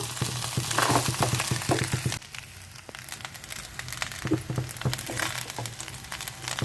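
Coconut rice being stirred in a hot pan, with steady sizzling and frying under repeated scraping, scooping strokes of a spoon, close and fairly loud with no talk.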